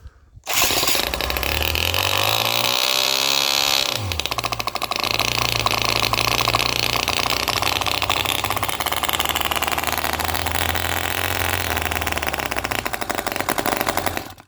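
An OKMO R32 miniature Harley-Davidson Shovelhead petrol model engine runs loud and steady, its pitch sliding as the throttle shifts, then dropping sharply around four seconds before settling into a continuous buzzing rumble for the rest.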